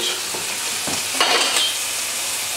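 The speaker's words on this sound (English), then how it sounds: "this bacon, yeah, so nicely sauteed" Bacon sautéing in a pan for hot dogs, a loud, continuous hissing sizzle with a few brief stirring scrapes partway through and no voices.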